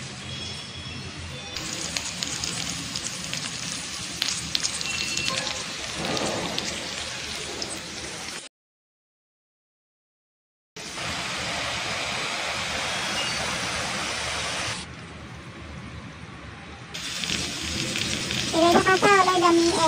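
Garlic, green chili and onion sizzle steadily in hot oil for a tempering (bagar), a dense continuous crackle that drops out briefly and then resumes, with faint background sounds.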